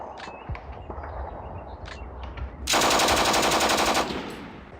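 Suppressive machine-gun fire in a WWII turn-based strategy game: a loud, continuous burst of rapid shots for about a second and a half, after quieter clicks and chirps, then tailing off.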